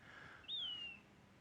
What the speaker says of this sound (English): Oh, birds are singing to me.